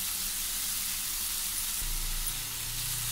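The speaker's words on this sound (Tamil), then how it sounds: "காயை நல்லா வதக்கிக்கலாம்." Radish pieces sauté in a pan for sambar with a steady, continuous sizzle and hiss close by, holding an even level throughout with no talking.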